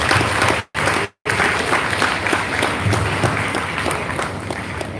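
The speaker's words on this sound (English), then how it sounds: "Let's welcome him with a big round of applause." At a school event, an audience gives a sustained round of applause to welcome a Grade 6 student speaker, with dense clapping cut by two brief dropouts near the start.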